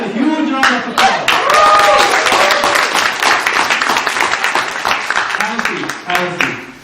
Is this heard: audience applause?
yes